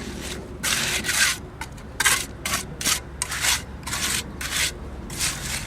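A trowel rasps and scrapes wet concrete being spread along the top of a masonry wall, in repeated rough strokes of irregular length, close and fairly loud.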